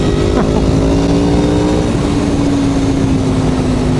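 An Aprilia Tuono Factory V4 1100 motorcycle is ridden hard with the throttle wide open, a loud, steady engine drone whose pitch climbs gradually under sustained acceleration.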